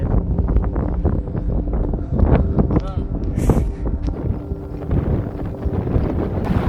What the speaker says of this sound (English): Look how windy it is, too, bro.